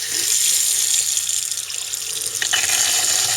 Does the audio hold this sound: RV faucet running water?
yes